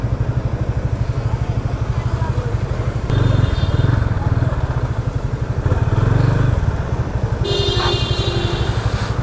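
A Yamaha Fazer 25 motorcycle on a test ride, its engine putting out a loud, close, steady pulsing idle-like thrum that swells briefly twice as the throttle opens.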